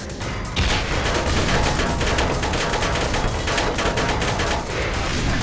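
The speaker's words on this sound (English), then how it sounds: "It shoots me with machine gun, and then rockets?" Sustained bursts of automatic machine gun fire from an enemy in the video game Black Mesa, loud and rapid, running almost continuously with dense overlapping shots and a brief opening lull.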